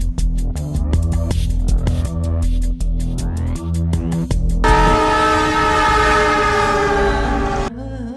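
Train rumbling past up close with a rhythmic clatter of wheels over rail joints, then a long, loud horn blast that sounds steadily for about three seconds before cutting off.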